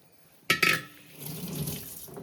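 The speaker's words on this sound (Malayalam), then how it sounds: "അതിനിടയിൽ കൈയൊക്കെ ഒന്ന് കഴുകിട്ടോ" Water from a tap splashes briefly during handwashing, a short close burst followed by a softer, steady running trickle.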